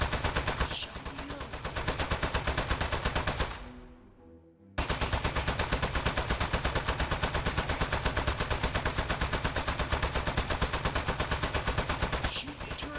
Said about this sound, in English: Shoot the turret at him.